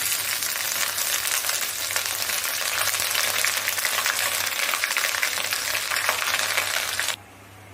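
Ginger paste hitting hot oil already holding bay leaves, dried red chillies and cumin for a vegetarian chana dal, giving a steady loud close sizzle and crackle that cuts off abruptly near the end.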